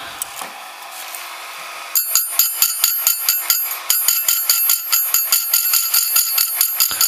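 A SuperJolly chain sharpener with hydraulic clamping grinds saw chain teeth in a loud, regular series of sharp rasping bursts after a softer motor whir, each tooth pass repeating at a quick, even rhythm.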